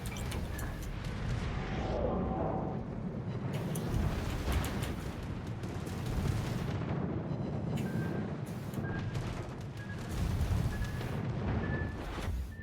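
Naval guns boom in World of Warships over a constant deep rumble of ship engines and sea, with distant heavy blasts and faint interface beeps throughout, no speech.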